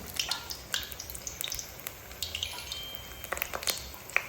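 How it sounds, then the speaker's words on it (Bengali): Cauliflower pakora frying in hot oil, a faint, steady crackle and sizzle with scattered small pops throughout, heard alone with no talking. "তিন পিস ফুলকপি রেখেছিলাম একটু পকোড়া ভেজে দিই"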